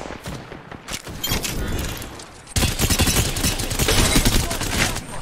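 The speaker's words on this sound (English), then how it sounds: "Taking fire." Gunfire in a video game firefight during a tournament match, dense bursts of shots and thumps that grow louder midway, close and continuous, with no speech.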